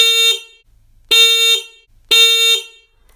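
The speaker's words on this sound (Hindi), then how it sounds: "अब इसका हॉर्न भी चेक कर लेते हैं" Motorcycle horn sounding in three loud, close honks, each about half a second long with a bright buzzy tone, separated by short silences.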